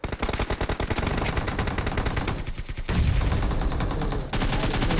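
Rapid automatic gunfire rattles from a Dragon Ball Z mode of a shooting video game. Dense, loud bursts follow one another back to back, with brief shifts in tone between volleys and no voices.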